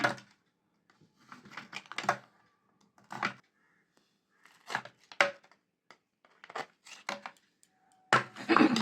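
Frozen coriander ice cubes are twisted and popped out of an ice tray in a series of sharp, close cracks and clatters, with silent gaps between the bursts.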